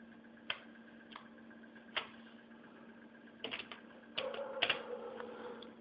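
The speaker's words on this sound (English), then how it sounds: "type the name" Sparse keystrokes on a computer keyboard while typing a project name in Visual Studio, a few isolated clicks followed by a quicker cluster, faint over a steady electrical hum.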